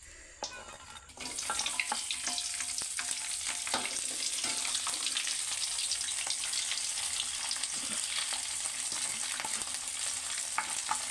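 Cooking oil heating and sizzling in a pan before anchovies go in for frying, a steady hiss with scattered crackles and pops that starts abruptly after a quiet moment and continues close and loud.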